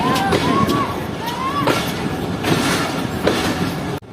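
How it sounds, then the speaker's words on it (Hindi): Rehman Baba Express rolling slowly out of a railway station on a foggy winter night: a steady, continuous rumble with wheels squealing in high whining glides, then cutting off abruptly near the end. "तो आहिस्ता आहिस्ता ट्रेन हमारी जो भैया रेलवे स्टेशन से निकल रही है।"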